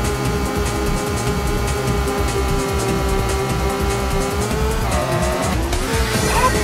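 A race car in Rage Racer roars at a constant loud pitch, then its tires squeal sharply through a corner near the end.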